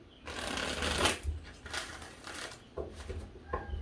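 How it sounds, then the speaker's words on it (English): Tarot cards are riffled and shuffled in several quick bursts, close and soft, with brief pauses between the flurries. "I'm going to give this 3 shuffles"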